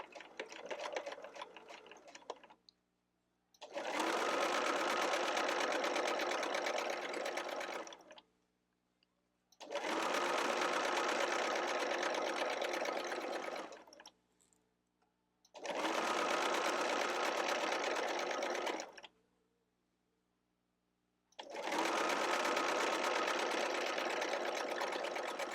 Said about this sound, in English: So we're just going to sew all the way around, top stitching this on.